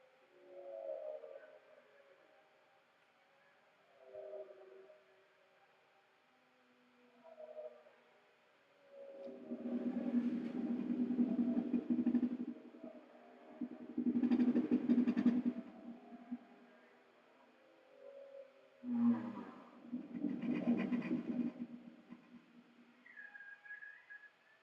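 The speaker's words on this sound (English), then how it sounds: "if you've never heard the sounds of whales underwater, this is what it sounds like" Whale calls recorded underwater: several long, moaning low tones that swell and fade in separate bursts, with faint higher whistles between them and no other sounds.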